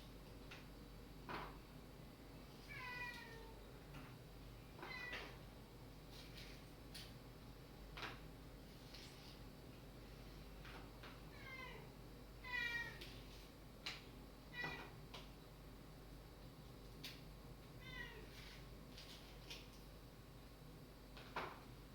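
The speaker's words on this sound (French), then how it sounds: "le chat de Monsieur M s'énerve vraiment après la porte." A cat meows several times at a door, faint and somewhat distant, between quiet ticking and knocking noises in a calm room.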